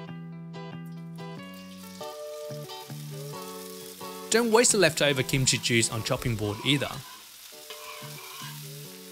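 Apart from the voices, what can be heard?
kimchi frying in oil in pan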